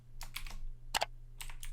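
Quick typing on a computer keyboard, a few clusters of crisp close keystrokes over a low steady hum, with no one talking.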